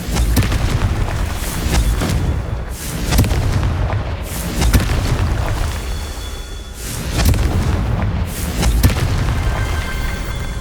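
Confringo fire spell blasts in Hogwarts Legacy, a run of loud booming explosions with rumbling low ends, several heavy bursts spaced a few seconds apart over continuous game background noise.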